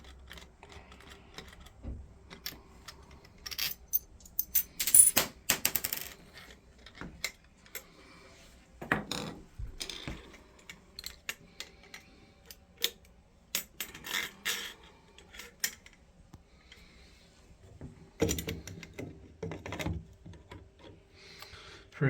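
A John Phillips plumbing cartridge puller works on a Posi-Temp shower cartridge, giving sparse metallic clicks, ratcheting taps and scrapes close by, with quiet gaps between bursts.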